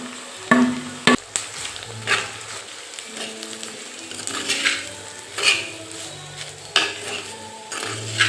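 Grated coconut sautéing in a pan with green chillies: a steady soft sizzle under repeated metal spoon scrapes and clinks against the pan, close and fairly loud, with no talking.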